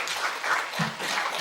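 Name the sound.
audience applause welcoming a Buddhist nun speaker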